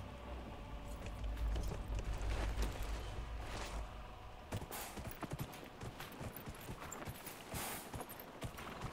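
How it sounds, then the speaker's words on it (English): A horse's hooves clip-clopping in the video game Dragon Age Inquisition, a soft rhythmic patter of hoofbeats at moderate distance over a low ambient rumble, with sharper steps toward the end. "We're going to mount up for this because everything takes longer without a horse."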